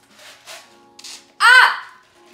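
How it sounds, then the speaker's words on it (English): A man burps on purpose, producing a single loud, croaking belch that follows a few quieter murmurs and breaths nearby. "I can make myself burp."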